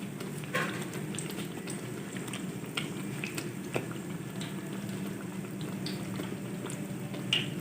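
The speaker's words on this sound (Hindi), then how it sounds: "तो अब हम इसी तरह नान को उठाकर कढ़ाई में डाल देंगे।" Naan with a besan and potato coating fries in oil in a kadai, giving a soft, steady sizzle with scattered pops and crackles throughout.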